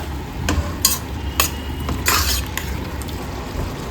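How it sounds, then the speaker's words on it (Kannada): Potato curry fries in oil in a pan while a spoon stirs it: a low sizzle runs under sharp, irregular scraping and clinking strikes of utensil on metal, close and fairly loud. "ಚೆಂದ ಮಿಕ್ಸ್ ಮಾಡಿಕೊಂಡು ಫ್ರೈ ಮಾಡ್ಕೊಳ್ಳೋಣ"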